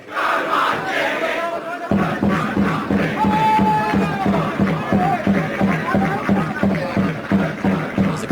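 A crowd at a school football match in the Peter Mulholland Cup, Farrer MAHS versus Westfields SHS, chants and roars loudly and steadily in a rhythmic, pulsing swell. It carries through the whole stretch after a brief quieter opening.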